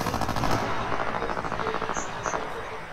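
Rapid bursts of automatic gunfire ring out in a video game shootout, loud dense firing that eases off toward the end, with a couple of brief metallic pings.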